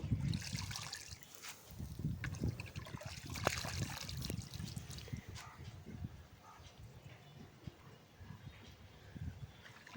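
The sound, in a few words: washing spinach in water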